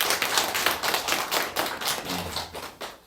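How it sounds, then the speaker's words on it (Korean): A church congregation claps in a loose, rhythmic round of applause, with distinct individual hand claps standing out close by and a low hum briefly rising near the end. "마음의 꽃다발을 담아서 큰 박수 한번 다시 부탁드리겠습니다."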